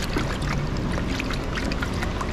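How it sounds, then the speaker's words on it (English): Coolant glugs steadily from a gallon jug into the cooling system of a Subaru Forester 2.5 during timing cover seal work, a continuous close, liquid pouring rush with no talking. "We'll start to fill the cooling system as well."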